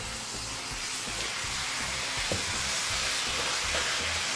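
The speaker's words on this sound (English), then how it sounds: "you want to stir until all the apples are coated with this mixture" Honeycrisp and Gala apple pieces cook in a brown sugar mixture with a steady, soft sizzle and hiss as they are stirred. A few light scraping clicks come through, and no one speaks.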